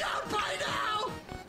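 A video game character lets out a loud, strained yell, a brief burst of screaming voice rising and falling over about a second and a half.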